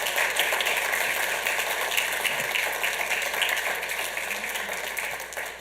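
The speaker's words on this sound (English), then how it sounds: "Let's give them a big round of applause for that." Audience at a city council meeting applauding a jazz orchestra, a dense, steady wash of many hands clapping at fairly even loudness that tapers slightly toward the end.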